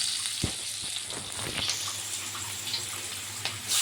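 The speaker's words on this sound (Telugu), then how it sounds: "ఆనియన్స్ బాగా ఫ్రై అయిపోయినాయి" Onions frying in a pan for egg fried rice hiss in a steady, close sizzle, with a few sharp clinks and scrapes of a utensil breaking through.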